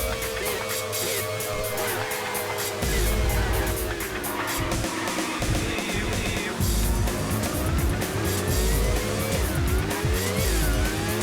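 A race car engine in the PS2 game Racing Simulation Three roars continuously, pitch climbing and dropping through gear changes, with a tire squeal, mixed with in-game music.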